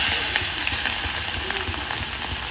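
Crushed garlic frying in hot oil in a home kitchen, a steady loud sizzle and crackle with small popping spatters, continuous throughout.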